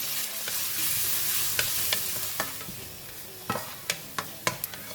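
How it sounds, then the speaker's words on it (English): Ginger frying until crispy in oil in a pan, a constant hissing sizzle punctuated by irregular sharp clicks and scrapes of a utensil stirring, growing busier toward the end, with no speech. "We're going to fry the ginger until crispy, just like the garlic."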